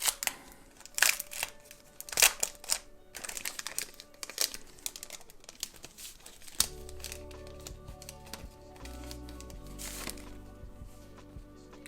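Crinkly planner sticker sheets handled up close, with sharp plastic crackles and rustling bursts, then quieter shuffling over a low steady hum.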